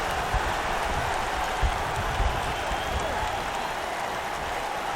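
Video game wrestling crowd in WWE 2K19 during an AJ Styles versus Sami Zayn match, a steady roar of cheering and applause filling the arena continuously with small swells, faint commentary voices underneath.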